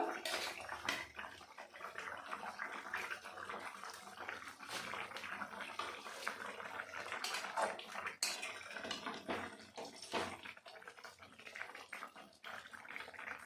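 Fried pabda fish being added to a simmering curry of winter flat beans and potatoes, a continuous bubbling, splashing wet sound with clattering pot noises, close and steady without talk.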